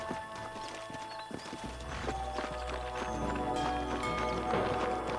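Several horses' hooves clip-clop in a rhythmic trot in the video game Red Dead Redemption, with a low rumbling drone and game music-like tones underneath.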